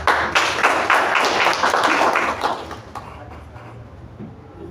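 An audience claps at a live radio station event, a dense wash of applause that starts strong, holds for a couple of seconds, then thins and fades away.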